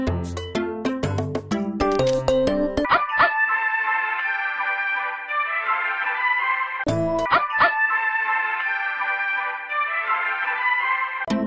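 A cartoon puppy in the Little Pet Doctor Puppy mobile game gives a burst of quick, bright synthetic yips at the start, then the puppy's cheerful musical chimes ring out twice, loud and clean.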